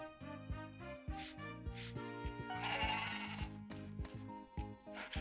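A baby goat bleats in the farming video game Story of Seasons: Pioneers of Olive Town, its call layered over steady, melodic background music.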